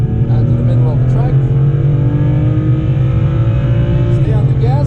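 A car's engine revving hard and climbing through the gears on the Nürburgring during a private track day, loud and close from inside the car, with a voice coaching over the engine.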